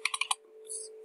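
A quick run of four or five crisp key clicks from typing on a computer keyboard, close and quiet, followed by a faint hum and a soft tail of noise.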